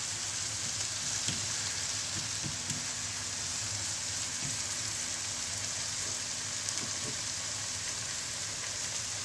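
Chopped greens sizzling in a hot pan while cooking Alexandrian-style fava beans, a steady dense frying hiss throughout with occasional soft clicks and stirring noises, close and fairly loud.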